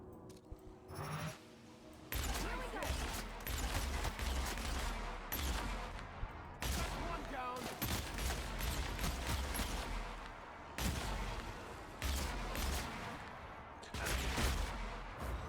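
Gunfire while shooting primals in The Outer Worlds, a video game: dense bursts of shots in repeated volleys with sharp onsets, loud and continuous through most of the span, with brief pauses between bursts.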